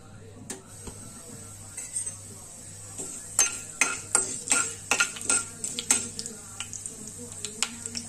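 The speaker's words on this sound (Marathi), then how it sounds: "तेल व्यवस्थित तापलं की मग आपण त्याच्यात ही जी 1 चमचा मोहरी आहे ती घालूया" Mustard seeds hit hot oil in a pan for a raw banana dish, giving a soft sizzle with sharp irregular pops and ticks that cluster mid-way, close and fairly quiet, with speech heard.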